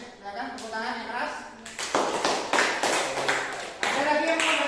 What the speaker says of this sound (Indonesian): Ayo, silakan tepuk tangan yang keras.